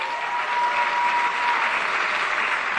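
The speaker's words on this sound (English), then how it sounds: "Let's acknowledge him with a round of applause." An audience at an accountants' conference applauds steadily, a dense, even wash of clapping from a sizable crowd held at constant level throughout.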